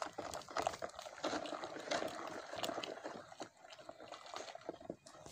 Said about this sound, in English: caustic soda. I'll stir this in now.